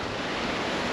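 Ocean waves washing over coastal rocks on the cliffs of Valentia Island, Ireland, a loud continuous roar of surf and rushing water mixed with heavy wind buffeting the microphone.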